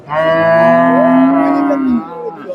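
A dairy cow at the Dakumara cattle market in Bogura gives one loud, close moo, long and drawn out, then falls quiet as faint background noise remains.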